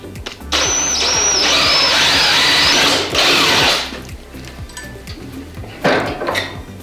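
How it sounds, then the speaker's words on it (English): A drill with a 1/4 inch bit grinds loudly through angle aluminum in a sustained, high-pitched whine for about three seconds, then quiets, followed by a shorter burst near the end. "you use a 1/4 inch drill bit, because these are 1/4 inch carriage bolts, to drill through that hole"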